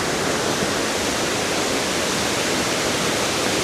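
Steady rushing water flows without pause, a dense even wash of sound close by, with no voices.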